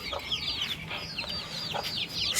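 Hens on a rooftop farm cluck and chatter in quick, repeated bursts, close and fairly loud against a low background hum.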